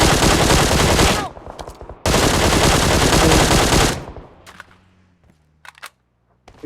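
Two long, dense bursts of rapid automatic gunfire in PUBG, loud and close, each lasting a couple of seconds, followed by a few scattered distant shots and fading quiet.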